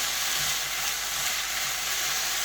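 Vegetables being stirred with a spoon in a hot pan for pizza bite filling, a steady loud sizzle throughout with faint scraping, no voices.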